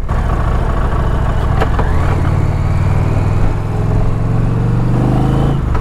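Indian Pursuit motorcycle engine under way, a steady loud low rumble with harmonic drone throughout, rising slightly in pitch midway as the bike pulls.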